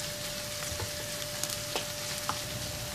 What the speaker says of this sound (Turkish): Soğanlarımızı birkaç dakika kavurduktan sonra 1 yemek kaşığı salça ekliyorum. Salçamızı da biraz kavuralım.